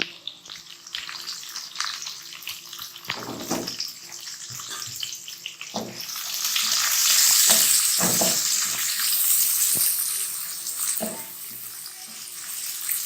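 Onions are added to a karahi with ginger, garlic, cumin and whole red chillies and fry with a steady sizzle that grows louder midway, broken by the scrape and clatter of stirring.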